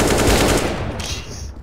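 Fast automatic gunfire in a first-person shooter, a loud close burst of rapid shots that thins out and trails off within under two seconds.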